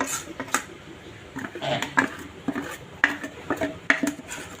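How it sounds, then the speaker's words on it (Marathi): Fermented dosa batter is scooped from one pot into another, giving close, irregular clinks and scrapes of a utensil against metal vessels, with some soft wet sloshing in between and no talking. "आता आपण हे थोडंसं ना दुसऱ्या भांड्यात काढून घेऊया"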